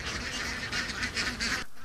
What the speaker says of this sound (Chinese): 成群结队的鸭子摇摇摆摆地往西边走。